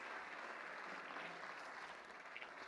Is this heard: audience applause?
yes